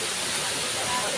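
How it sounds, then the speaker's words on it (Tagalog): Busay Falls waterfall in Northern Samar, a steady broadband rush of falling water that fills the short clip at constant loudness, with no pauses or breaks. "Nakikita nyo po ang napakaganda naming falls, Busay Falls dito sa amin sa Northern Samar."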